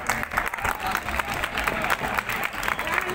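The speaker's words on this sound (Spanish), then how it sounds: "Vamos a recibir con dos fuertes aplausos." A crowd applauds a charanga street band at a gigantes y cabezudos festival in Torrejón de Ardoz, with steady dense clapping throughout and a voice faintly mixed in beneath it.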